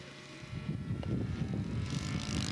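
A scale model aircraft comes in to land into the wind at an outdoor scale aircraft show. Its engine gives a steady, moderately distant droning hum that grows a little fuller partway through.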